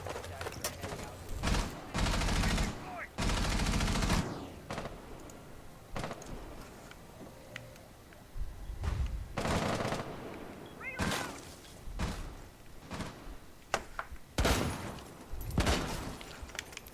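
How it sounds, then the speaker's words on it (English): Rapid bursts of gunfire from a Rainbow Six Siege match, shots raining onto windows in repeated loud volleys with short gaps, sharp cracks and rattling impacts scattered across the span. "A lot of shots coming down on the windows"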